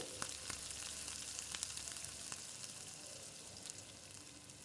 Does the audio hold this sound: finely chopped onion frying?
yes